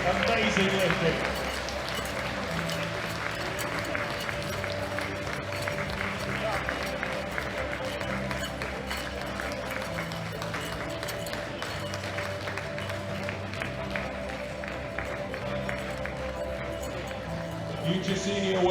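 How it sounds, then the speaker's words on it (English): Audience applause at a world classic powerlifting championship, steady sustained clapping from a crowd filling the hall, with a voice speaking over it. "Round of applause, please, ladies and gentlemen."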